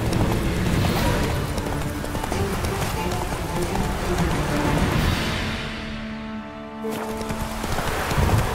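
Horse hooves galloping in The Witcher 3, a steady rapid clip-clop under dense ambient game noise that stays loud throughout, with a brief dip before it continues.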